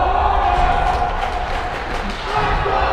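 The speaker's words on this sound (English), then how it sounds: "150 strong now in the Edina sectional low, cheering them on" A youth hockey crowd of about 150 cheers in an Edina arena, a continuous mass of voices with scattered shouts rising and falling in the background.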